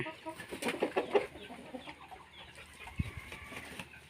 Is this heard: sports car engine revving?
no